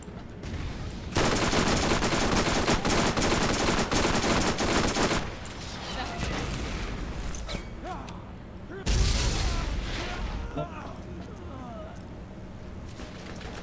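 Dense, sustained gunfire rattles in Borderlands, followed by a heavy rocket-launcher blast near the end, loud and continuous with short gaps between volleys.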